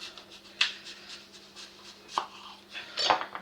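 Knife slicing through a stuffed apple, heard as three crisp cutting strokes spaced across a few seconds over a quiet background, with no talking.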